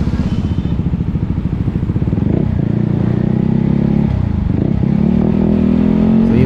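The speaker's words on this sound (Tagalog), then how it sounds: "Marami dito mga private motorbikes" Private motorbikes moving through flowing city traffic at night in Dumaguete, a close, loud engine drone with rapid throbbing pulses that shifts pitch as riders accelerate and slow, with a steady rumble continuing underneath.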